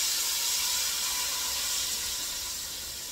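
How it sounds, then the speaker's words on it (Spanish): Salsa of chile and tomato for Guatemalan tamales frying in hot oil, a loud, steady, bright sizzle that fades slightly toward the end, alone without voices. "Ya está caliente con aceite, brinca, pero no pasa nada"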